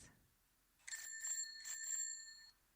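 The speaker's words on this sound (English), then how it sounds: "Little bicycle bell." A small bicycle bell rings twice in quick succession, bright metallic tones lingering briefly after each strike, close and clear with no talking.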